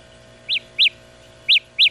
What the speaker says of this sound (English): it sounds like a little bird